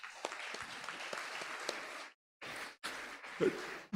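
A crowd applauds steadily for about two seconds, breaks off briefly, then claps again in shorter bursts.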